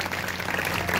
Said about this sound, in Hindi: सभी जोर से तालियां बजाएंगे